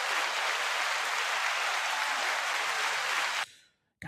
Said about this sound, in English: I guess we can clap for that